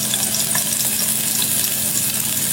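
Ginger, garlic and green chili fry in a pan with a steady, dense sizzle that holds through the whole stretch, close and fairly loud, with faint stirring and no talking.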